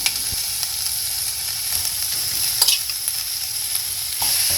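Shrimp frying in a hot pan, giving a continuous hissing sizzle with a few light scrapes and knocks of stirring, a brief louder burst near the end.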